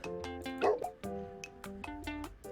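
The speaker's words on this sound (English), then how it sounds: "shoves his snout right up the Aussie and continues barking" Cartoonish game dog barks from a puppy character in the clinic setting of the game Best Friends Forever, a few short yips repeating over background music, fairly close.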